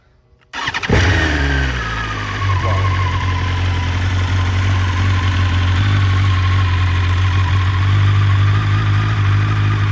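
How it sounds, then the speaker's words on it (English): A 2020 BMW S1000RR Hockenheim Silver sport bike with a stage 1 slip-on exhaust cold-starts after a short silence, catching sharply and then settling into a loud, steady, deep idle that holds close and unbroken. "Now it will be a good way to see it, since, as I said, I did not start the bike yet for a few days."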